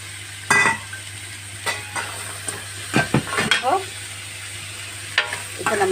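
Onion and garlic sautéing in a pan for vada kulambu: a low steady sizzle with a hum beneath, broken by several scraping stirs of a spoon against the pan, close and moderately loud, with no talking.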